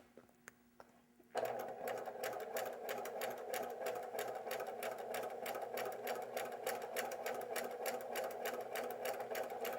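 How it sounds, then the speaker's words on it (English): A sewing machine stitches fabric in a steady, fast mechanical whir with regular needle pulses, starting after a brief quiet moment and running continuously up close for piecing a quilt. "align my right hand edge of my fabric with my foot, and then begin to sew"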